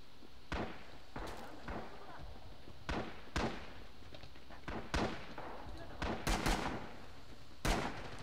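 Gunfire in the video game Red Orchestra 2, with sharp single shots and short bursts cracking at irregular intervals, some close and loud, others farther off, over a steady background of battle noise.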